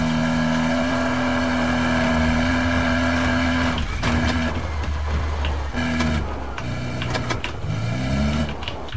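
A motorcycle engine in the Battlefield Hardline video game drones with a steady buzzing tone that revs up and down as the bike rears onto its back wheel, loud and close, with clattering game noises mixed in.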